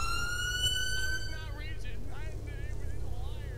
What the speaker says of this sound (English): Hit that siren, brother.